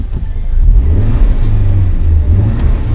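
Honda Civic Type R in R mode, engine revving loud and close, a rising and falling mid-pitched roar with a couple of throttle blips over three seconds.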